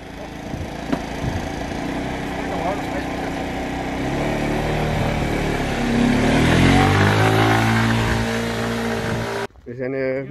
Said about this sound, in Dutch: Het Twantje gaat een stukje rijden op mijn scooter.